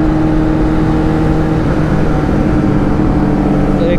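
A Kawasaki Ninja ZX10R motorcycle pulls along in first gear, its engine a loud, steady, close-up drone with sustained harmonic tones and no speech.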